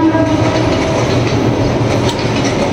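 A train passes close by, a loud rolling rumble with clickety-clack of wagons and a horn, with no voices.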